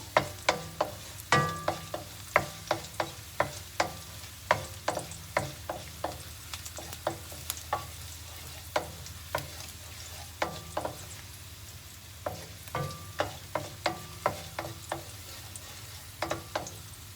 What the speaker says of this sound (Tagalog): 3 tablespoons of avocado oil. This is garlic now.